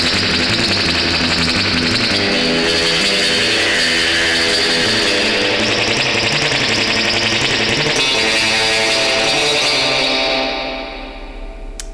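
An electric guitar played through a cranked spring reverb unit rings out with surf-style drip, repeating picked notes washing into a dense, splashy reverb tail that fades near the end.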